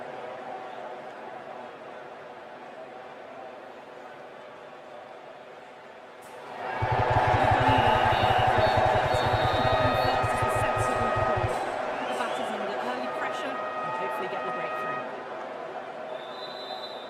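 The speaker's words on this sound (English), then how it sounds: "Oh, it's a loud crowd." A loud stadium crowd roars at a T20 World Cup cricket semi-final between India and England, swelling midway into a dense cheering surge with rhythmic rumbling, then easing back to a steady crowd hum under the broadcast.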